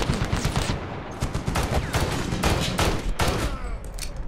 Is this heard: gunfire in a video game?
yes